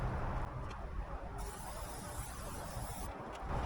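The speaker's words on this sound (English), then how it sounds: "I'm going to put some oil down on the griddle first. Like I said, I would just use a spray avocado oil." Olive oil is sprayed from a can onto a Camp Chef griddle, a soft steady hiss in a few short bursts, fairly quiet and close, with no talking.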